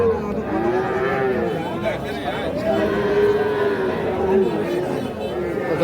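Young bull calves at a busy cattle market low and moo in drawn-out calls, heard under steady crowd chatter and nearby talking voices.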